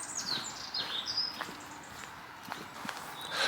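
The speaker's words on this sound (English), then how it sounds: "I can just about make out birds" Birds chirp and sing in short thin calls across English countryside near Rainworth, Nottinghamshire, faint and somewhat distant over a soft background of footsteps and distant road hum.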